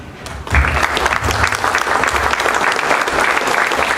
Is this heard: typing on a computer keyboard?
no